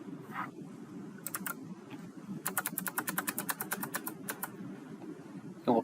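Computer keyboard keys click while code is edited, first a few isolated taps, then a quick rapid run of keystrokes and a couple more, faint over a low steady background hum.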